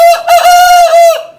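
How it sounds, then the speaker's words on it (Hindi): An Aseel rooster of old bloodline crows loudly and close, one sustained call with a steady tone that fades at the end, with no talk over it. "जो ओल्ड ब्लड लाइन मुर्गे होते थे उनकी अजान है इसकी"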